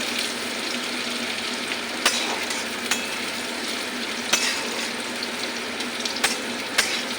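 Chopped onion and garlic fry in a pan with a steady, close, dense sizzle, broken by a few sharp clinks of stirring and no talking.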